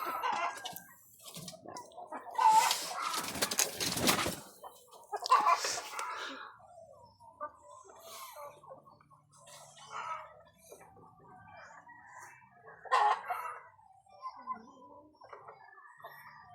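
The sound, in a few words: chickens clucking on a poultry farm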